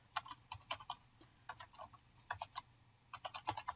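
Typing on a computer keyboard, faint close clicks of keys in quick irregular bursts with short pauses, no talking.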